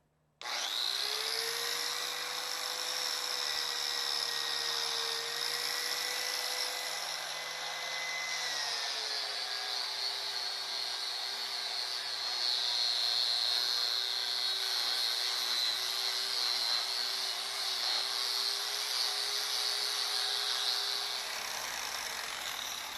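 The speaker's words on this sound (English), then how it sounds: "this felt disc, it's bendable, flexible disc, really polishes out nicely with this rubbing compound" A grinder spins a flexible felt disc loaded with rubbing compound against a stainless steel solar arch, a loud continuous whine with a steady pitch that dips slightly partway through before winding down, heard alone without voices.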